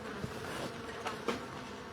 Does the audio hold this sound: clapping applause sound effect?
no